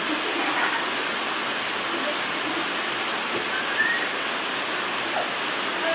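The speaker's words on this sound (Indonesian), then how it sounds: "Hujan ya?" Steady, dense rain hiss heard from inside a small car, a continuous broadband wash with no break across the clip.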